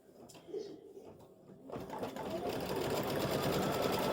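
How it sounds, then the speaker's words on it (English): An embroidery machine stitching a star design, starting quietly then settling into a steady, continuous rapid whirring hum that grows louder and holds, with no talk. "I've already stitched one, and it's getting ready to stitch another star."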